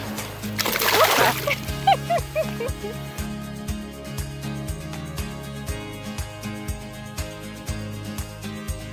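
A walleye released back into the water makes a short, loud splash near the start, followed by lighter sloshing. A steady background hum continues under the whole stretch.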